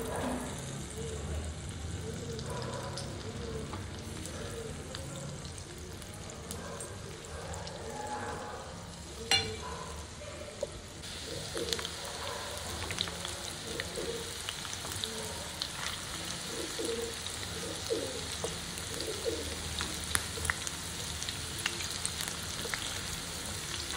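Paneer cubes coated in cornflour and semolina fry in hot oil with a steady, close sizzle and crackle and a few louder pops, continuous throughout.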